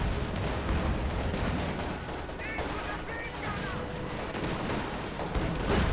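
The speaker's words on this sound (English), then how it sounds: "Another strafe there, causing more casualties, more damage." Aircraft strafing runs and gunfire rattle through a Company of Heroes 2 strategy game battle, with dense overlapping shots and booms forming a continuous loud wash of combat noise.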